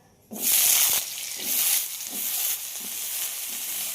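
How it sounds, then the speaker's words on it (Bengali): Thin, small slices of potato sizzle loudly in hot oil with a cumin tempering, a steady bright hiss that starts abruptly and swells in soft waves as they are stirred. "আলুটাকে খুব ভালোভাবে ভেজে নেব।"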